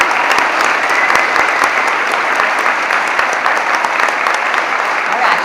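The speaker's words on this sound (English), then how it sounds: "Let's give them a round of applause." Steady, dense applause from a school awards audience honoring top juniors, sustained at full strength throughout with no talk over it.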